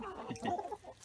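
Backyard chickens cluck softly in a short, quiet burst of a few clucks.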